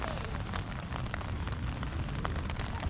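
Rain patters steadily on a backpacking tent during an overnight camping trip, a dense, continuous wash of close drops with scattered louder taps throughout.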